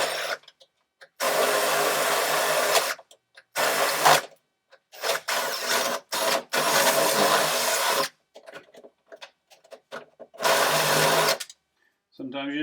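Power drill boring out rivets on the rear door of an OBS truck during door glass and regulator removal, in several loud whirring bursts of a few seconds each separated by pauses.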